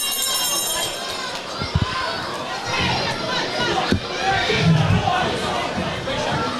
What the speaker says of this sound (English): Crowd really getting behind this lot.